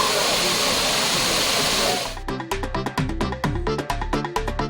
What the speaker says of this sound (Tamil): பிரதான அருவி, ஐந்தருவி, பழைய குற்றால அருவிகளில் தண்ணீர் ஆர்ப்பரித்து கொட்ட தொடங்கியுள்ளது